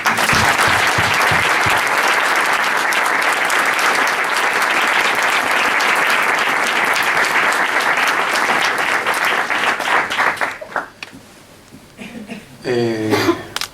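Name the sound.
applause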